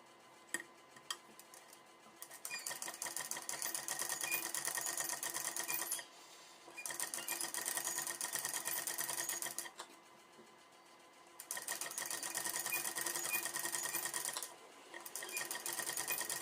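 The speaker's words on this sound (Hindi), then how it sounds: "तो चलिए फिर इसमें गैदर्स बना लेते हैं।" Sewing machine stitching gathers into a dress sleeve, fast rhythmic needle clatter in several bursts separated by short pauses, close and fairly quiet with no voices.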